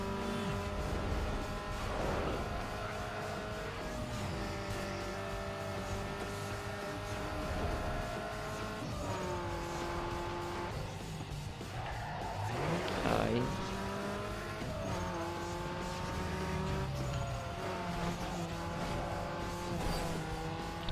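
A tuned racing car driving in the video game Need for Speed Underground 2, its engine droning and revving steadily with shifting pitch, plus occasional tire squeals and skidding, loud and continuous.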